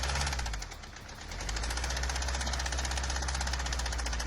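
Rapid, even metallic knocking from the engine of a black BMW E91, a loud close tapping rhythm over a steady idle, continuous throughout with no talking.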